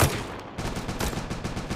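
Rapid bursts of gunfire in a shooting video game, a quick rattling run of loud shots after an opening blast, close and continuous with no talking.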